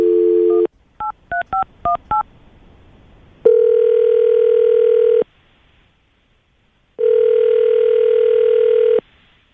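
A phone line tone, then a quick burst of touch-tone dialing beeps, followed by two long ringback tones separated by silence.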